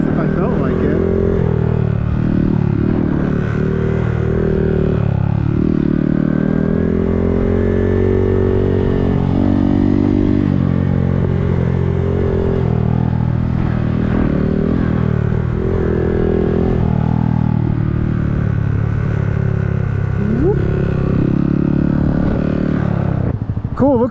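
A small Honda Grom motorcycle runs continuously on a ride, its engine note rising and falling with the throttle while a person talks over it throughout.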